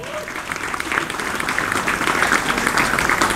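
A crowd at an Indonesian Islamic boarding school gathering claps together during a cleric's speech, the applause swelling and thickening toward the end, with a voice mixed faintly in.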